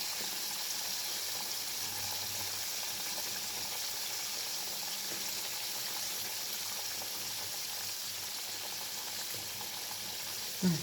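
Fish frying in hot oil until crispy gives a steady, dense sizzle and bubbling that holds evenly throughout, close and alone, with a brief knock near the end.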